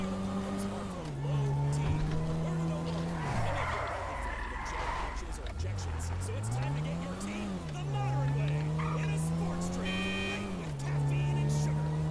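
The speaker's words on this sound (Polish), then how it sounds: "Fajny ma dźwięk silnika." A car engine in the video game GTA V hums steadily, its pitch rising and falling as it revs and eases off, with a loud sustained drone and someone talking over it.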